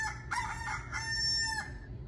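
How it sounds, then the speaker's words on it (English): A rooster crows loudly and close by, one long cock-a-doodle-doo rising and then trailing off. "That's right. That's a rooster."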